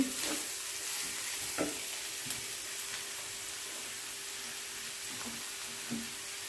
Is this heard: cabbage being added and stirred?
yes